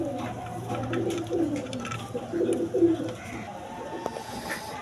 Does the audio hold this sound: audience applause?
no